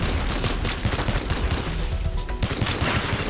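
A tank-mounted minigun in the game Teardown fires a dense, continuous rattling stream of shots with scattered explosions, loud and close, with a brief dip near the end before the barrage resumes.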